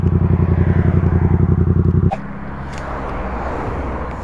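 A motorcycle engine runs loud and close with a fast rhythmic pulsing, then abruptly drops away as its chain comes off while riding, leaving a lower, rougher rolling noise.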